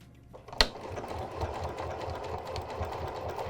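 A Janome sewing machine runs steadily, sewing a hand-look quilting stitch with monofilament thread, with a short sharp click near the start and then a continuous close, rhythmic mechanical whir with no talking.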